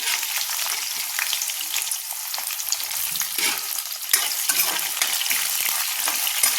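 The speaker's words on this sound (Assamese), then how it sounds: "আৰু এতিয়া পিঁয়াজখিনি ধুনীয়াকৈ মই ভাজি লওঁ" Sliced onions fry in hot oil seasoned with panch phoron and bay leaf, giving a loud, steady close-up sizzle with scraping stirs, and no voices.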